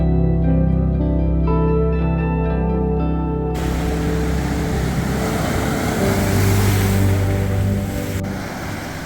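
Choppy ocean surf on a rugged Algarve beach with boulders, a steady broad wash of waves and spray. A sustained tonal drone plays over it at first before the surf takes over.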